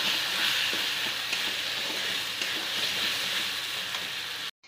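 Spice masala of coriander powder, turmeric and salt frying in oil, a loud continuous sizzle with faint scraping from stirring, cut off abruptly at the very end, no speech.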